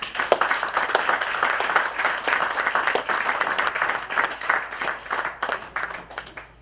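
Audience applause at a national church council meeting, a dense, sustained burst of many hands clapping close and loud throughout.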